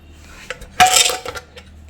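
A metal saucepan for cooking khichuri is set down with a sharp clank and brief rattling clinks, nearby and close, followed by a couple of lighter knocks and no speech.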